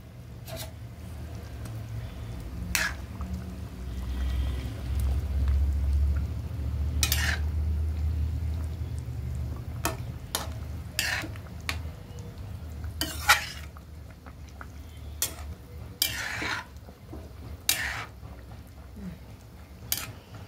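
Fish pieces and chopped tomato go one at a time into a simmering pot, giving a low bubbling bed broken by sharp clinks and scrapes of a utensil against the pot at irregular intervals, with no voices.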